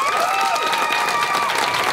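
Students cheer together at an evening school district support rally held ahead of an accreditation meeting. The crowd noise is steady and continuous, with whoops and raised voices over sustained clapping.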